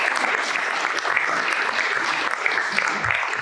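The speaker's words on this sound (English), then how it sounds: "so big round of applause" A room full of people applauding at a community talk on environmental technology in Taranaki, a continuous dense wash of clapping, close and fairly loud, running unbroken from start to finish.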